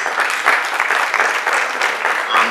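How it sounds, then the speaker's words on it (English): A crowd claps in steady, full applause at a presentation, dense and even from start to finish across the short stretch. "Deserves a round of applause."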